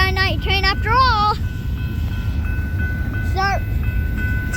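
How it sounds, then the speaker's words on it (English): Night train on rails, a loud low rumble of wheels rolling steadily past while several bird-like chirps or squeals ring out briefly near the start and again later. "It looks like we got a night train after all."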